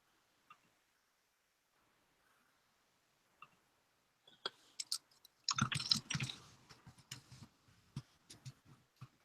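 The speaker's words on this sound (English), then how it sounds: "I guess you were typing" Someone types on a computer keyboard during an online meeting, starting with a few sparse, faint clicks and then a quick irregular run of louder keystrokes and taps.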